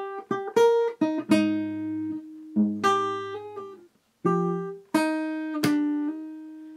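D: Fingerstyle acoustic guitar picks out a song, a series of plucked notes and chords ringing and decaying with brief gaps between phrases, played clearly and alone at close range.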